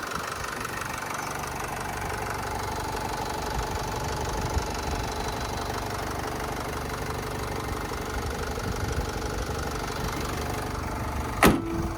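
The 2.0-litre diesel engine of a 2013 Opel Vivaro van idles with a steady rough clatter and low rumble, close by, ending with a brief sharp knock near the end.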